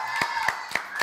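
Several slow, spaced hand claps, four distinct claps at an even rhythm, close and fairly loud.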